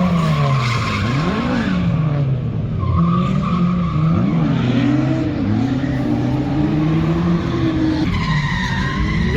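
At a drift event, race cars including a Corvette skid to a stop after one spins, loud wailing engine revs rising and falling over continuous tire squeal, close and sustained the whole time.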